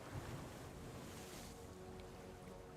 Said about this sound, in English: I guess I'm just an old man listening to the sound of the sea.